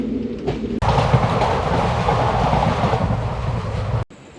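Narsapur–Lingampalli express train running, a loud steady rumble and rattle of the carriages that cuts in abruptly and cuts off before the end, with wind buffeting the microphone.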